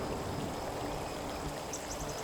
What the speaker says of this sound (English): The creek runs more than 30 miles before it gets here.